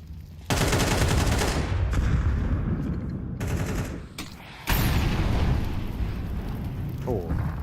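AK-47 fire in Counter-Strike on the Dust 2 map during a competitive match: loud, close rapid bursts cracking out in sequence, with short pauses between sprays.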